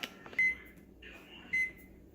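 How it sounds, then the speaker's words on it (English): An oven's control panel gives two short, clear electronic beeps about a second apart as it is set, close and fairly loud against a quiet room. "And I'm gonna reset my oven to an hour."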